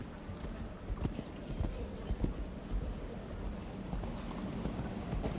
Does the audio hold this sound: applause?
no